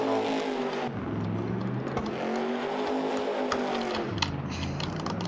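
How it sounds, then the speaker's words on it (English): A giant monster truck drives through Farming Simulator with a steady, loud engine drone whose pitch rises and falls as it accelerates, continuous throughout. "This giant monster truck"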